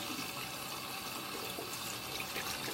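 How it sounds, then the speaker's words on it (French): A paintbrush is rinsed under running tap water, a steady, close hiss of flowing water splashing over the bristles, even and continuous with no voices. "je vais aller écarter les poils aussi pour le rincer"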